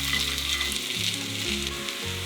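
Onion sizzles steadily in a hot pan for mole negro, a close, even frying crackle with a soft stirring scrape and no talking.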